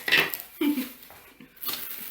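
Cooking pots, lids and a small ladle from a saucepan set clatter and scrape as they are handled up close, a few irregular clanks and rubs with quiet gaps between them.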